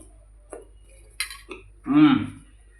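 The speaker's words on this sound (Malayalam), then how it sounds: "സ്പൂൺ കൊണ്ട് ഇങ്ങനെ കോരുക എന്നിട്ട് കഴിക്കുക" Spoon scraping and scooping a ragi ball drenched in jaggery syrup in a dish, giving a few soft close clinks and scrapes, followed by a short voiced sound at the end.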